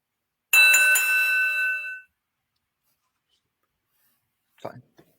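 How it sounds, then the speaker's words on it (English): A bright, ringing bell chime sounds once, sustained for about a second and a half before cutting off, followed by silence and a couple of faint clicks. "Opening bell time."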